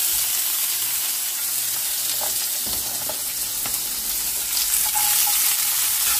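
Onions with green chillies fry in a pan, giving a loud, continuous close sizzle with faint scraping of stirring underneath.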